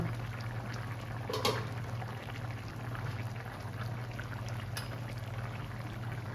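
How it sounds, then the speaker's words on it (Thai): Tamarind water is poured into a pot of simmering northern Thai Hang Le pork curry, giving a steady low bubbling hiss with a brief splash near the start, then continuous gentle boiling. "แต่เดี๋ยวเขาจะใส่น้ำบะขามตามลงไปแหม"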